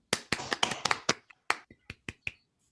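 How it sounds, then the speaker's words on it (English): Scattered claps from a small online audience after a mathematics talk, a quick cluster of sharp individual hand slaps that thins into a few separate claps, close and dry. "give our speaker a big round of applause"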